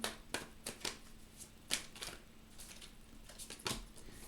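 Tarot cards being drawn and shuffled during a Leo reading, heard as a string of soft, sharp card snaps and riffles at irregular intervals, close by and fairly faint, with a low steady hum underneath and no talking.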